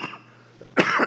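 A burst of harsh coughing near the mic, a brief quieter rasp and then two or three loud close coughs in quick succession.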